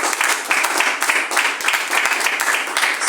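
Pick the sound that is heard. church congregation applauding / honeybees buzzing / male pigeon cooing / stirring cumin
church congregation applauding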